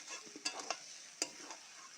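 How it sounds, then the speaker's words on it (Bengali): Jackfruit frying in rendered goat fat gives a soft, low sizzle, punctuated by a few quick spoon stirs and clinks close by, with no voices. "এই চর্বিগুলো সুন্দর করে ভাজা হয়ে গেছে এবার কাঁঠালটা ঢেলে দিলাম"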